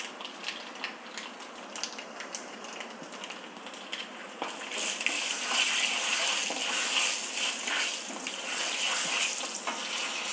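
Mustard seeds and urad dal temper in a spoonful of hot oil for a chow chow curry, a light crackle of scattered pops that swells into a denser, louder sizzle partway through.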